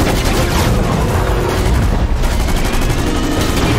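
Dense, continuous Fortnite gunfire during a season finale event, with rapid overlapping shots and booms, loud and sustained throughout with no pauses.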